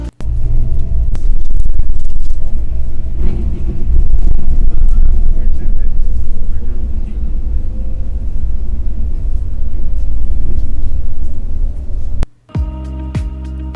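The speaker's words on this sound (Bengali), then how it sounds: "এখনই ইঞ্জিন সাউন্ড আর কেবিন নয়েজ পাচ্ছি" A Scania K-410 multi-axle bus drones with a steady low engine rumble and cabin noise, driving below 40 on the Mayor Hanif flyover in Dhaka. The sound is loud and continuous, then cuts off abruptly near the end.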